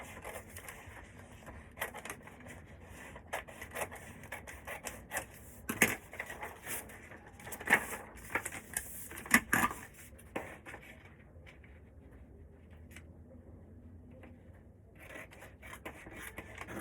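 Scissors cut through a folded paper sleeve pattern with quiet, close snipping and crinkling, a series of soft scattered cuts and rustles over a low, calm background.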